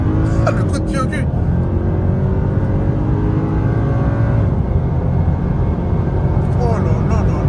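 A 2010s-era Mercedes C63 AMG W204 V8 pulls hard with a loud, continuous rumbling roar heard from inside the car, with people speaking briefly over it near the start and end.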